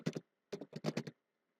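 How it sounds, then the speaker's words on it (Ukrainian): Computer keyboard being typed on in a quiet room, a short burst of two clicks, a pause, then a quick run of about five or six crisp key taps, close and fairly soft. "з клавіатури вносимо команду"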